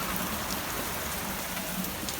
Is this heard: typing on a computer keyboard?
no